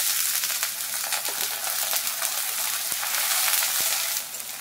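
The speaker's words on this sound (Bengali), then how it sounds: "একটু জল দিয়ে দিলাম মশলাটা ভালো করে কষার জন্য।" Onion, ginger and garlic masala frying in a kadai sizzles loudly and steadily after a splash of water, a dense close hiss with a few soft clinks of stirring.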